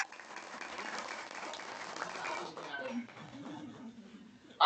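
Clapping from an audience at a university graduation ceremony for biology students, a moderate patter of hands under a faint voice, fading toward the end.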